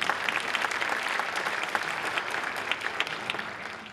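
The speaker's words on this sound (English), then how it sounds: "Please give another round of applause." Crowd at a community meeting about a maglev train project applauds steadily, a dense, continuous clatter of many hands at moderate volume throughout.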